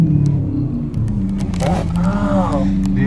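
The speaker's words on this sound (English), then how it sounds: "That exhaust is the single biggest reason to own one of those cars." A sports car engine and exhaust rev, a low, thick rumble steadily underlying the whole stretch with a brief rising whine near the end, while people talk over it.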